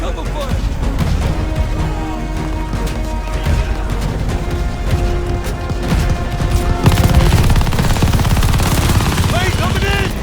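LMG machine gun fire in Call of Duty: Vanguard bursts in rapid, loud volleys close by, mixed with explosions and battlefield clatter, while voices shout over the shooting.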